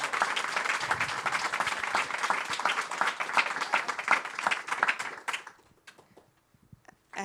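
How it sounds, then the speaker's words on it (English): A crowd at a documentary screening applauds interns, a lively burst of many hands clapping for about five seconds before it tapers off into near silence. "just one more round of applause for"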